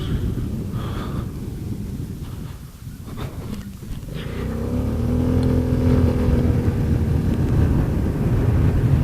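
A Vespa scooter engine rises from a muffled idle into a hard, sustained rev, the drone climbing and holding loud and close over rushing wind noise.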